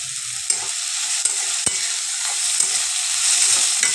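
Chopped green chili fries in hot oil in a pan, a steady close sizzle with a few sharp crackles and spatula taps, no voices.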